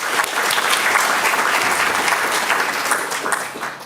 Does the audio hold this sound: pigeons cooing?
no